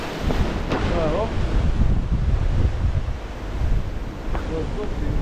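Force 8 wind roars across the Malta coast at Migra l Ferha while two-metre waves surge and break nearby, heavy buffeting gusts on the microphone mixed with rushing surf, loud and continuous.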